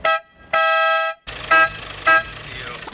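A very loud Temu car horn powered by a Lamborghini battery honks twice in close, harsh blasts, then fainter horn toots sound over rumbling background noise.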